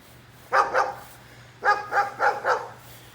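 A dog barks from somewhere nearby beside a small, isolated cemetery in a backyard area: two quick barks, a pause, then four more in a row, clear and fairly loud with no talking.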